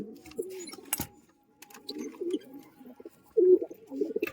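Murshidabad Giribaz pigeons in a breeding loft give soft throaty coos in short bursts separated by near-silent gaps, with one sharp click and a louder rolling call near the end.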